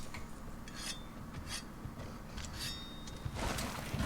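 A weapon is speed-sharpened in Monster Hunter World Iceborne, producing several short metallic scraping strokes over a low game background hum, ending in a louder final scrape.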